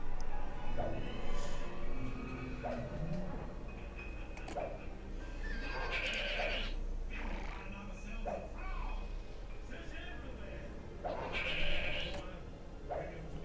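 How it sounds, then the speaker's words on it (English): Animal calls from mountain goats in a video game, a few bleat- and whinny-like cries rising over steady game sounds and music, with a person talking through much of it. "Here comes my next army of mountain goats."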